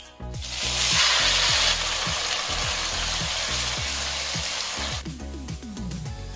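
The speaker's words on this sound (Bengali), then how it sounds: "এখন এতে দিয়ে দিচ্ছি কেটে রাখা টমেটো" Chopped tomatoes hit a hot spice tempering in a pan, setting off a loud, steady sizzle that swells right after they go in, with repeated scraping and stirring strokes underneath and no talking.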